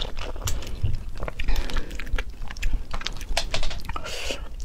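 Close, wet biting and chewing of seafood at a mukbang, with irregular crunchy bites and smacking mouth sounds one after another.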